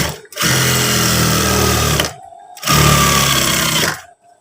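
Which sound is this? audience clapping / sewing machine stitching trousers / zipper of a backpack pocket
sewing machine stitching trousers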